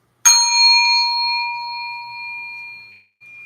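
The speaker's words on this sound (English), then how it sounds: "The bell invites me!" A single struck bell rings out in a staged theatre production of Macbeth, one clear strike followed by a long shimmering ring that slowly decays over several seconds, near and alone with no talk.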